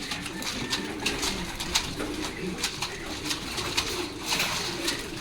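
Several pigeons coo continuously in a low, throaty murmur, with scattered higher chirps and rustles over a busy background.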